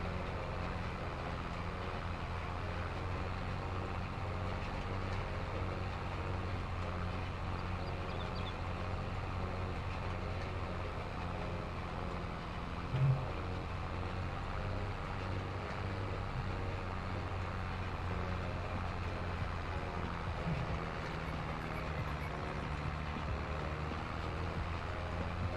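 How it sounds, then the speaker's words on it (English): A tractor engine in the Farming Simulator 22 video game, being pushed hard on the Greenlands map, a continuous low droning rumble with a steady mechanical hum, unchanging and without pauses throughout. "we are pushing our tractor to the limits with it"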